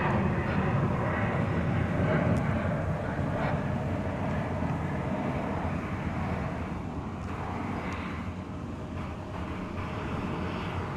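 A UPS Boeing 747 jet rumbles at DFW Airport at night, giving a broad, distant roar that swells slightly and then eases, with a voice talking faintly underneath.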